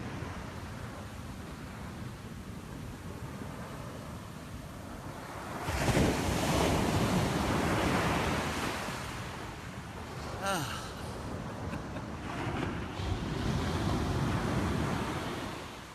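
Ocean waves wash onto a beach in repeated surges, the loudest breaking about a third of the way in, with wind noise on the microphone throughout.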